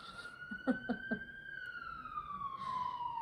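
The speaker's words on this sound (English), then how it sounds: "sirens in the distance" A siren wails steadily in the distance, slowly falling in pitch, with a few soft knocks nearby early on.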